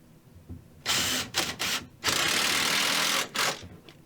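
A power driver sinks 1.25-inch screws into wood while a walk-up bar unit with a wine glass rack is built, several loud whirring bursts of varied length, the longest run lasting over a second.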